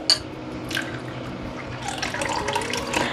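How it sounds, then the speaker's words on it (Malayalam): Water is poured into curd in a bowl for a curry, a steady close splashing trickle that grows fuller toward the end. "ഞാനിതിലേക്ക് ഒരു കാൽ ഗ്ലാസ് മുതൽ അര ഗ്ലാസ് വരെ വെള്ളമാണ് ചേർക്കാൻ പോകുന്നത്"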